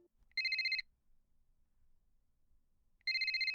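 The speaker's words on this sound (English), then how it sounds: "I shuddered when my phone rang." A phone rings in two loud electronic bursts separated by a quiet pause of about two seconds, with no talking.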